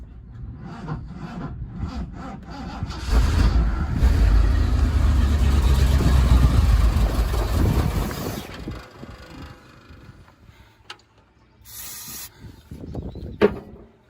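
The engine of a 1979 Ford Bronco, run for the first time in 15 years, cranks and catches into a rough, loud rumble for several seconds before stalling, followed by clanks and handling noises.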